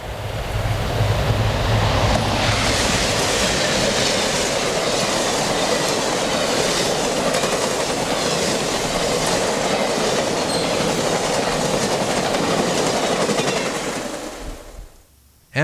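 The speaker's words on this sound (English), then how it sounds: "Soon, the Empire Builder coasts downhill into Elm Grove." Amtrak Empire Builder passenger train coasting downhill, a loud, steady rush of rolling wheels and rail noise that holds for most of the clip, then fades away near the end.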